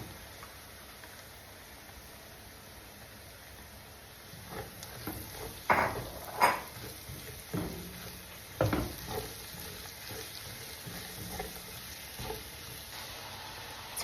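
Onion frying for beef menudo: a soft sizzle at first, then louder crackling and sputtering from about midway, with a few sharp clatters of stirring against the pan.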